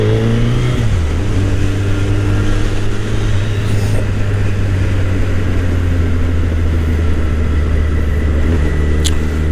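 A Suzuki Hayabusa motorcycle fitted with an Akrapovic exhaust runs loud and close, one brief rev dipping early before the engine settles into a smooth, steady drone on a city ride.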